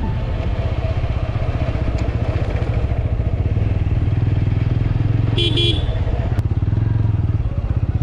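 Motorcycle riding on the road to Konark Sun Temple in Odisha, a steady close engine drone with a brief horn honk midway, and a voice speaking over the engine.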